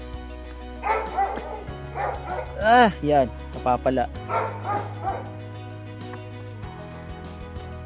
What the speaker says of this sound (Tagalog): Ang lalaki ng aso guys. Doberman yata to